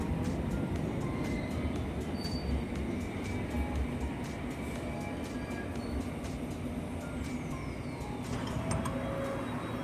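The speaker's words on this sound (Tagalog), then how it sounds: "Our first train going home. For the underground. It's an underground." London Underground train ride heading toward Aldgate: a steady, loud rumble of the carriage running through the tunnel fills the whole stretch, with rattling and faint squeals over it, and no talk.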